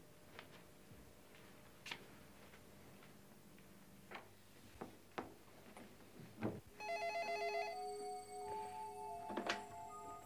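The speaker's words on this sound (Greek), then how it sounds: "να περιμένω το τηλεφώνημα του Κοντογιώργη" An old telephone bell rings in bursts after several sharp ticks and knocks in a quiet room, the ringing loud and close, repeating in two clear trills near the end.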